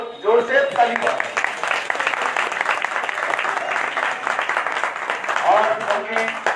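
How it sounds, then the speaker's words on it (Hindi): A crowd at a home religious gathering claps in loud, steady applause honouring the homeowner, sustained throughout with brief voices rising at the start and near the end. "और उनके लिए एक जोर से ताली बजाओ।"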